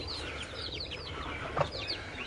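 A hen clucks softly over her chicks while they shelter beneath her for warmth, giving faint, scattered calls with small chirps against a low background hum.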